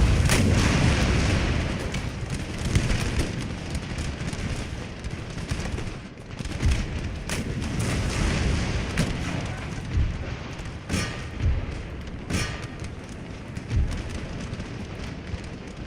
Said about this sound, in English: cannons right in the center here, which are firing almost point blank